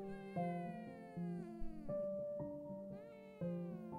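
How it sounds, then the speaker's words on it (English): A cat meows repeatedly in long, drawn-out, tonal calls, several rising and falling cries one after another, close and clear with no talking. "Hello there, cat."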